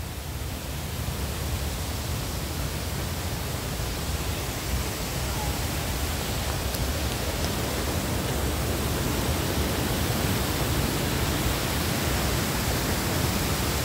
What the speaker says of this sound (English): waterfalls are beautiful as always